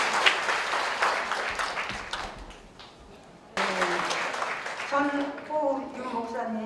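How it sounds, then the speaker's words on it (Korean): A church congregation at a pastor's 40th ministry anniversary service breaks into applause, a dense wash of clapping that fades briefly before swelling again as organ-like tones enter. "자, 박수 한번 합시다."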